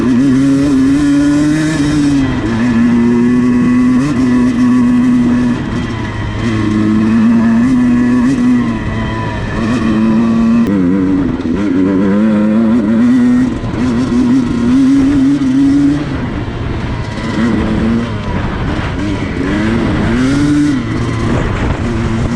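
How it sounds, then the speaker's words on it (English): A Beta 200RR two-stroke dirt bike engine buzzes loud and close as it is ridden on a trail, its pitch rising and falling in repeated bursts of revving, with no voices. "So this bike, the Beta 200RR, is my fun factor bike."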